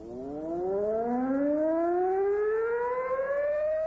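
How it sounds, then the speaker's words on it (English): A civil defense siren on a fire station winds up, its wailing tone climbing steadily in pitch and holding loud and sustained. "when I give the cue, he'll trigger the alarm"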